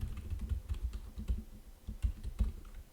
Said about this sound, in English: I promise I'm not this bad at typing